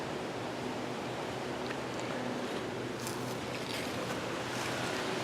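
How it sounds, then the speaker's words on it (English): Strong outdoor wind blows steadily as a broad, loud rushing roar with gusty surges, heard alone with no voices. "there's a good look at how strong the wind is overall."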